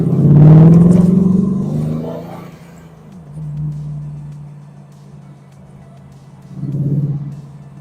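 Deep rumbling idle of a 2001 Monster Plus 8 car engine, close and loud, swelling briefly at the start and again near the end, with steady low throb between.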